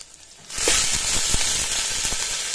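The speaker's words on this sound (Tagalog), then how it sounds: "Mix na natin guys ang manok." Chicken pieces dropped into a hot pot over a wood fire for Filipino tinola, a sudden loud sizzle that swells after a quiet start and keeps hissing with stirring scrapes.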